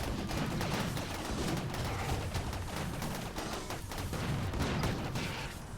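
Snipers open fire in the video game Rimworld, making a dense, continuous crackle of overlapping shots that stays at a fairly even level throughout.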